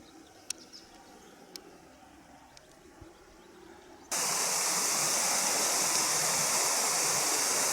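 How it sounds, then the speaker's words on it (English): A forest waterfall near Seattle roars as a loud, steady broadband rush that cuts in abruptly halfway through, after a quieter stretch of faint woodland ambience with a few sharp bird chirps. "Oh, we're getting closer and closer to the waterfall."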